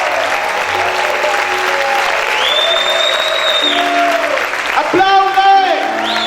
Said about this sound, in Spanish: Aplaude fuerte al Rey de Gloria.